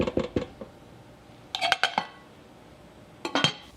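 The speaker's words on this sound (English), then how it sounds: "Time to give it another stir" A melting beeswax soap mixture in a crock-pot is stirred, making two short clusters of utensil clinks and scrapes against the pot with quiet gaps between them.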